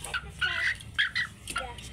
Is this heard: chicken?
yes